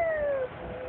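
A cat gives one close, drawn-out meow that slides downward in pitch and then fades into background noise.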